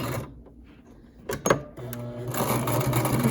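A sewing machine sews zigzag stitches on a homemade fabric face mask: quiet handling and a few clicks, then the motor starts and runs in a steady, close, rapid whir.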